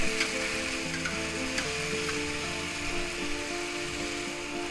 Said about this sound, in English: Now we just saute that up a little bit. Get a little bit of color going and flavors.